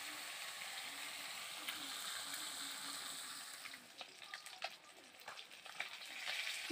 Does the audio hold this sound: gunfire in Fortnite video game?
no